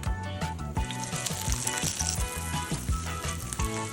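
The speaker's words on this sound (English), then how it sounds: "We add the eggplant." Eggplant sizzling in hot light olive oil in a pan on high heat, a dense, loud, crackling fry with rapid popping bursts, close and continuous, with no voices.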